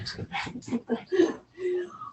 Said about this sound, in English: My dogs are greeting each other for the first time in 2 weeks.